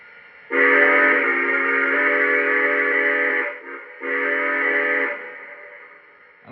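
A Lionel C&O F19 model train's stock steam whistle sounds two long, steady blasts with a short dip between them, chord-like and bright, then fades with a slight echo.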